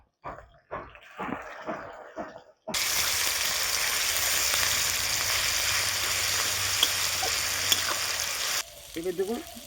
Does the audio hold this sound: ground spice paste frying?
yes